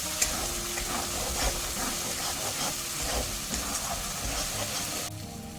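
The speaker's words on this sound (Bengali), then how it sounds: "এবার অনেকক্ষণ কষাবো, তেল ছেড়ে উঠবে" Spice paste with a little sugar sautéing in oil in a pan for potato curry, a continuous loud hiss and sizzle with steady stirring scrapes throughout, ending slightly quieter; no voices.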